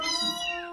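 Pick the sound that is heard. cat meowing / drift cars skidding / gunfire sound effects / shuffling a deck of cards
cat meowing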